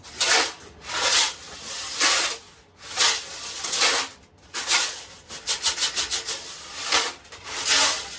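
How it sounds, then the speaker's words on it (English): Screws being worked loose from the gas tank of a 1985 Suzuki RH250 motorcycle, with repeated scraping, rasping strokes in bursts, ending in a quick series of short rhythmic grinding rubs, close and fairly loud with no talk. "this is getting those screws out of the tank"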